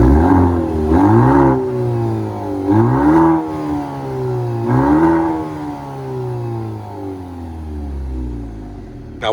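A 2025 Maserati Grecale Modena mild hybrid SUV engine revs up repeatedly in several rising sweeps, each climbing in pitch then dropping back, loud and close with no talking.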